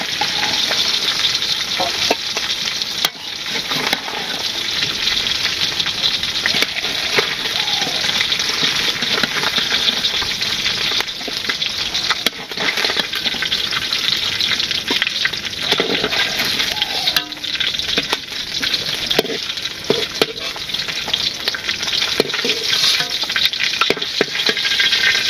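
Fish frying in a pan in a village kitchen, a loud, steady crackling sizzle that runs unbroken throughout with faint stirring movements, close up.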